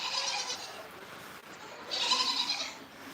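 A goat on a small farm lets out shrill bleats, two bursts of high, strained crying with a short pause between them, heard alone and fairly close.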